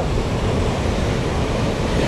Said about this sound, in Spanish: Mira, aquí vienen las olas así por series